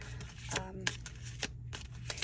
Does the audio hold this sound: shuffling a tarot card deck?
yes